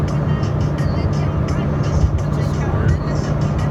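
Steady car interior drone while driving, a constant low engine and road rumble filling the background under ongoing conversation.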